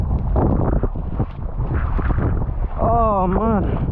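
Strong wind on a reef off Montego Bay, Jamaica, during a storm roars steadily into the microphone, a heavy continuous buffeting rumble, while a person talks over it throughout.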